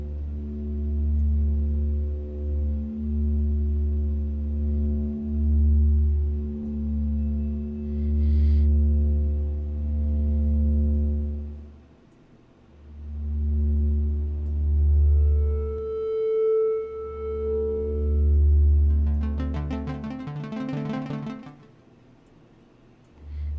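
An Arbhar granular synthesizer module plays a completely dry patch with no reverb, droning pulsing low tones in swelling waves, joined later by higher sustained pitches and a burst of fizzy grainy texture, with no voices.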